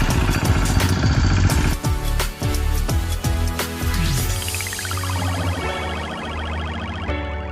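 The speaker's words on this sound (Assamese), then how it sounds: "আপোনাৰ হাল বৈ আছে ট্ৰেক্টৰেৰে" A loud tractor engine runs close by throughout, rumbling and shifting in pitch as it labours and revs while ploughing a field.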